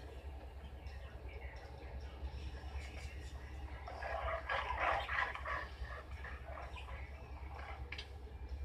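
A dog barks in the horror video game Silent Hill Homecoming, a short cluster of faint-to-moderate barks rising midway over a low droning game ambience, with no talk.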